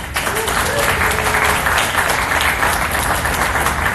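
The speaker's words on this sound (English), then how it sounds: "So let's just also give a round of applause to all the Kickstarter employees" An audience claps steadily for Kickstarter employees at a comics organizing event, the dense applause sustained and loud throughout, with faint voices mixed in.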